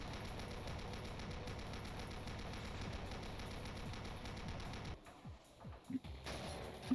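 Chaingunner enemies in Doom fire their chain guns in a steady, rapid mechanical rattle for several seconds, then the stream breaks off into a few scattered sharp hits and impacts; no voices.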